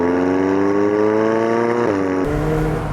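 McLaren 720S Spider engine revving hard, a loud rising mechanical roar close by that drops off abruptly as the throttle lifts, followed by a burst of crackling exhaust pops.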